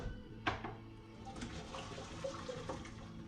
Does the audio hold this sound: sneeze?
no